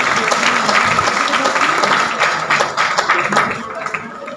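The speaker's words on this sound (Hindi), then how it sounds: "एक बार दो-चार तालियां गुरुदेव के लिए।" Energetic clapping from an audience honouring a guru at a Hindi talk, a thick continuous burst that thins toward the end, with some voices mixed underneath.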